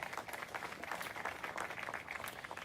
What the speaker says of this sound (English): So let's give them a round of applause for their great work.